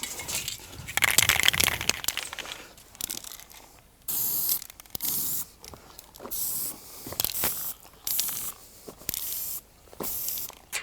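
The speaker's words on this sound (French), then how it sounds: "on va faire le tracé à la bombe" An aerosol spray paint can marks out the outline for a kit pool installation outdoors, with repeated short hissing bursts of a second or so separated by pauses, close and moderately loud with no voices.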